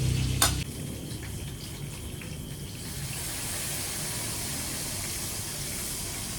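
Steak frying in a pan, a steady hiss and sizzle that swells after a brief clatter at the start and carries on evenly at close range.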